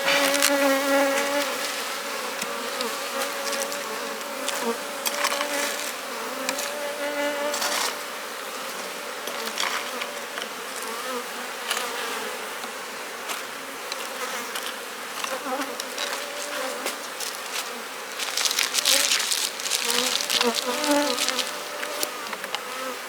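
Honey bees buzzing around an open hive with emerging young bees and drone comb, a dense, steady swarm hum close by that continues throughout and swells slightly near the end.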